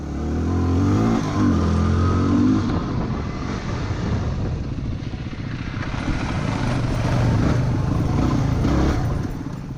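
A Yamaha WR250R motorcycle riding trails on tribal land, its mid-pitched engine droning close and steady with repeated rises and falls in revs as the throttle opens and eases.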